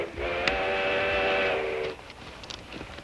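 A steam-era train whistle in a 1955 Western film blows a sustained, harmonic tone for about a second and a half, then cuts off, leaving faint rumble and small clicks.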